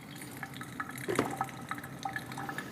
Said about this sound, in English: just put some hot water over that into our decanting device here too